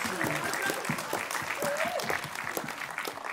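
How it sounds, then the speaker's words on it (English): An audience applauds the evening's MC at a community performance event. The clapping is moderate and continuous for a few seconds, with voices mixed into it. "Can we give a round of applause for our MC of tonight, please?"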